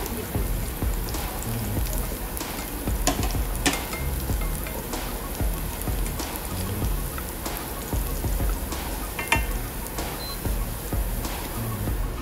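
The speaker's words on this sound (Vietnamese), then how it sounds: "Tiếp theo cho dầu vào chảo phi tỏi cho thơm" Garlic frying in oil in a pan gives a dense, steady sizzle and crackle close to the mic, with scattered sharper pops throughout and no voices over it.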